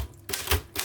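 Restored Imperial 66 manual typewriter being typed on, a quick burst of crisp, close key strikes with solid mechanical clacks over less than a second, no voices.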